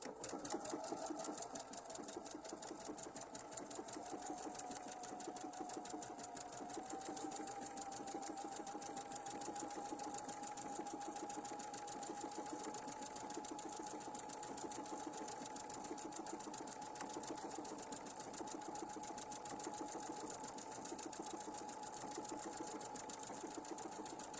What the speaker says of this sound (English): I'm sewing as a lefty today.